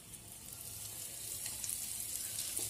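Asafoetida, nigella seeds and dried red chillies sizzle steadily in hot oil for a Bengali fish curry, a close, even crackling hiss with small pops and no talking.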